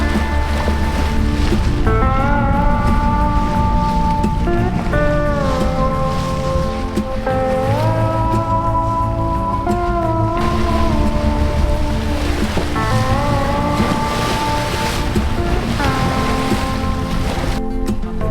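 Sailboat under sail at sea in 9 to 10 knots of wind, with a constant loud wash of wind and waves against the hull and a shifting whine over it, no talk.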